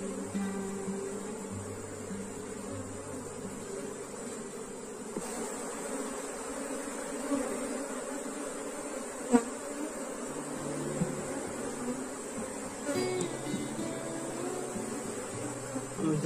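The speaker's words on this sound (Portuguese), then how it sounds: "Até que tem um volume bom de abelhas" Honeybees hum in a dense, steady buzz around an opened hive box, the swarm droning continuously at close range with a few brief knocks and shifts in the background.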